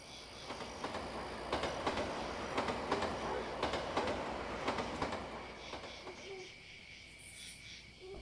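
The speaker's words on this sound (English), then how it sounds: "Ghost train." A ghost train rumbles past in the horror video game Yomawari, a steady rolling clatter with rhythmic wheel clacks that builds and then fades away, heard alone without talk.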